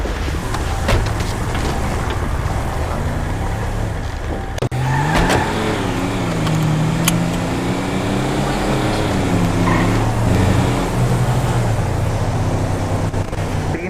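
A Toyota Hilux pickup engine revs and pulls away, its pitch rising and falling through the gears as it drives off nearby, with a brief tire squeal and scattered voices in the background.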